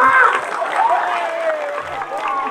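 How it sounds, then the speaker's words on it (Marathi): Audience applause at a kirtan, a steady broad patter of many hands that runs throughout, with a voice sounding over it. "10-20 आहेत यांच्यासाठी एकदा जोरदार टाळ्या जोऱ्या"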